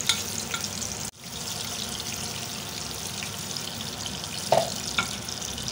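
Fried chillies sizzle steadily in a pan with masala and a splash of water, a continuous close frying hiss with a few brief clinks and stirring sounds.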